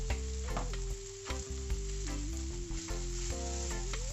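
Butter sizzles and crackles steadily in a frying pan, a close, continuous frying hiss heard alone.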